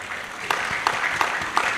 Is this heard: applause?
yes